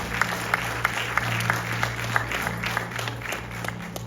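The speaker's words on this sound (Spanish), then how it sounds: "Den un aplauso al proveedor." A church congregation claps during a Spanish-language sermon, a steady round of applause with sharp individual claps standing out over a constant low hum.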